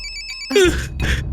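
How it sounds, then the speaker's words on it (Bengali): A mobile phone ringtone breaks in loud and clear during a tense TV drama scene, a short electronic ring that repeats in two bursts over a low room background. "আপনার ফোনটা বাজছে স্যার।"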